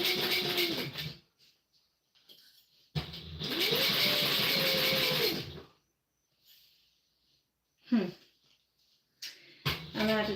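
A sewing machine fitted with a fresh new needle runs in several motor bursts while sewing bags, its whir rising and falling in pitch and sounding off. Short, close runs are separated by near-silent pauses.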